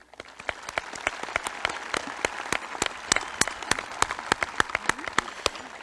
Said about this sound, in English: I would like to give a round of applause to the graduating class of 2022.